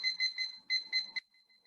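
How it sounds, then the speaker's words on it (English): A kitchen timer beeps in quick repeated bursts as it is set, shrill electronic tones in clusters close to the microphone, ending with a faint trailing tone. "So I'm going to set my timer."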